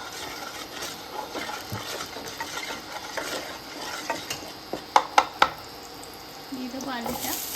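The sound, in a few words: potatoes frying and being stirred in a pan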